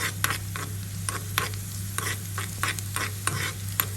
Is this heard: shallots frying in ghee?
yes